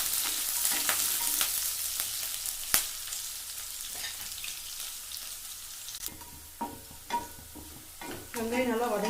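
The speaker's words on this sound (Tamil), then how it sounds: "கொஞ்சமாக கருவேப்பிலை, ஒரு 2 காஞ்ச மிளகாய், இதெல்லாம் நல்லா வதக்கி விட்டுடலாம்." Curry leaves and two dried chillies sautéing in a pan for a bottle-gourd kuzhambu, a steady close sizzle with intermittent clinks and scrapes of a stirring spoon against the pan.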